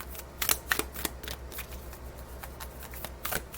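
Thick Lemuria oracle cards being shuffled, with a run of crisp, papery riffles and slaps that cluster at the start and again near the end, fairly quiet and close, with no talking.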